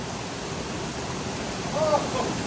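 A waterfall on a Southern California hike roars as a steady broadband wash of falling water, close and continuous, with a slight swell near the end; a voice may sound faintly underneath.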